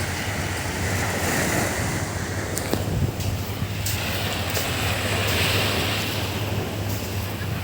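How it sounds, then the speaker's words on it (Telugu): Sea waves wash continuously on a general public beach at East Coast Park, Singapore, forming a broad steady roar mixed with wind buffeting the microphone and a low constant hum. "సముద్ర పొరల సౌండ్"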